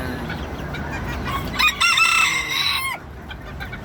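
Hungry bantam chickens and chicks clucking busily with a rooster crowing partway through, close by in an outdoor yard.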